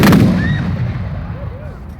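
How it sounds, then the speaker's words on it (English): A platoon's rifle volley rings out at an outdoor reinterment ceremony in Camden, South Carolina, one loud, near crack that rolls away into a long fading echo, with no talk over it. "Take care to fire by platoon!"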